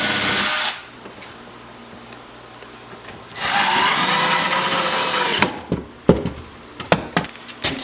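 A power drill runs in two short bursts, close and loud, pre-drilling holes underneath a kitchen cabinet during installation, followed by clattering knocks and handling noises.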